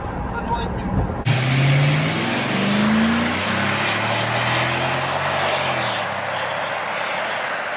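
A Mercedes ML V8 is driven, its engine note climbing through rising gears after a sudden start, loud and sustained beneath broadband road and wind rush.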